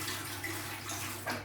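Water pours steadily from the tank of a MeacoDry Arete One dehumidifier, a close, continuous splashing stream with a brief surge near the end.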